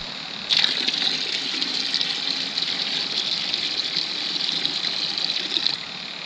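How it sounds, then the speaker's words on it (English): Water rushing and gushing at a creek beside a pond, a steady, close, hissing flow that begins abruptly and holds at an even level before easing off near the end, with no voices. "It's not a spring-fed creek."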